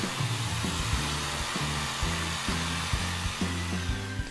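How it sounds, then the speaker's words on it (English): Jigsaw cutting a Trex composite decking board into a fish shape, a steady buzzing saw run with pulsing strokes throughout, close and fairly loud, with no talking. "Just going to use a jigsaw to cut out the basic shape"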